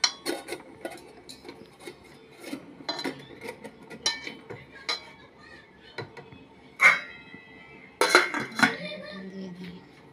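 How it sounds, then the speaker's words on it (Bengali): Kitchen clatter as a lid is set onto a bowl: scattered light clinks and taps of metal and crockery, with sharper louder knocks near the end as the lid goes on. "ঢাকাটা দিয়ে দিই।"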